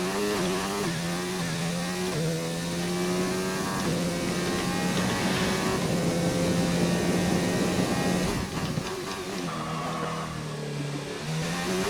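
A racing car engine in an open-wheel racing video game, held in second gear, screams at high revs with a sustained buzzing whine that rises and dips between shifts, loud and continuous without talk.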